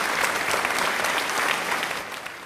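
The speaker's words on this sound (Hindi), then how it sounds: "तालियों से एक बार स्वागत करते हैं जिया का" A studio audience applauds steadily for a girl guest on a Haryana television special program, with dense, even clapping that fills the room without a break.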